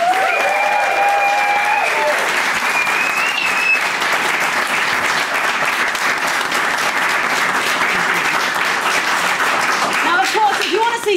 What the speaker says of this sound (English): Please give an extra special big round of applause for our special guests tonight